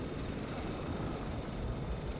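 Helicopter landing on the Sealand gun platform, a former offshore wartime fort in a windy North Sea setting: a steady, loud engine and rotor roar fills the whole stretch with no clear beat and no voices.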